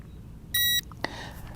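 Short electronic beep from a CSJ X7 Pro budget drone as calibration starts from the phone app, a steady tone followed by a second brief chirp, fairly clear over quiet room noise.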